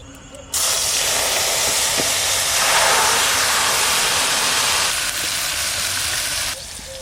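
Loud, steady sizzling hiss of marinated Bombay duck (lote fish) frying in hot oil in a wok, bursting in suddenly and holding strong, easing slightly near the end.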